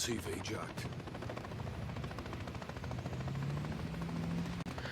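A helicopter's steady rotor drone fills the scene in the video game Call of Duty: Modern Warfare III (2023), loud and continuous, with scattered gunfire-like bursts and chatter mixed in.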